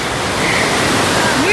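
Sea waves washing onto the shore between Ilyichevsk and Odesa on the Black Sea coast, a loud, steady rushing surf close by that swells slightly toward the end.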